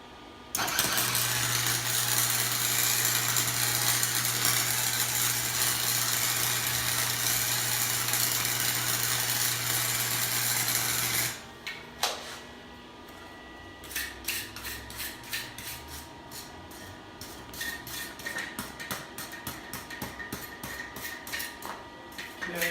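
A Harbor Freight welder running a cold weld bead gives a steady, close buzzing hiss with a low hum for about eleven seconds. Scattered crackles and clicks follow.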